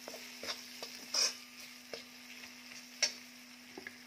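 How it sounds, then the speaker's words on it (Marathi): Beans sauté in oil with Kolhapuri chutney masala, a soft low sizzle under scattered light clicks and taps of a spoon stirring against the pan. "चटणी टाकून म्हणजेच मसाला टाकून छान असं हे परतून घ्यायचं आहे."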